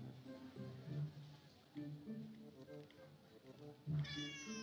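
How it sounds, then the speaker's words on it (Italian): Momo, a pet cat in the video game Detective Di: The Silk Rose Murders, meows several times in clear, close calls, with soft game music and ambience beneath. "Il mio amato gatto Momo. Oh, guardalo,"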